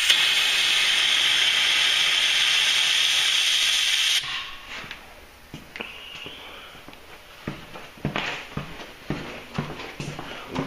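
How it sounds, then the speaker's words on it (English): Air compressor draining with a loud, steady hiss of escaping air for about four seconds, then cutting off abruptly, leaving quiet shop sounds and scattered knocks. "I want to shut the air compressor off. Drain it a little."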